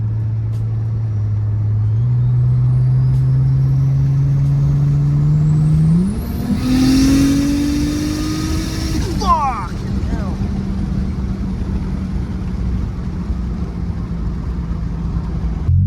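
A Toyota Aristo with a 2JZ engine makes a full-boost pull at 26 psi, the engine note rising steeply under load from a low drone to a loud high howl, then a whoosh as the throttle closes and a steady lower drone continues.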